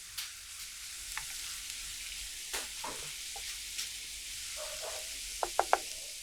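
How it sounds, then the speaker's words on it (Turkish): Quiet sizzling of sliced zucchini, bell pepper and other vegetables frying in a pan, with a few soft clicks and scrapes of spatula stirring near the end. "Tüm sebzeleri kızartın."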